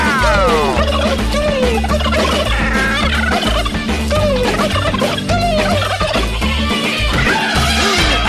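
Loud, rapid turkey gobbling rattles out repeatedly over a dense, pounding musical backing track, filling the whole stretch without a break.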